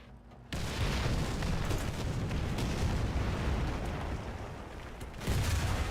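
Heavy artillery fire in the War Thunder tank battle game, a sustained roaring rumble of blasts that starts abruptly, holds loud and dense for several seconds, dips briefly and swells again.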